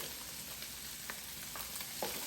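Fried rice with Spam and peas sizzles steadily in a Power XL cooker, a soft continuous hiss broken by a few light stirring clicks near the end, with no talking.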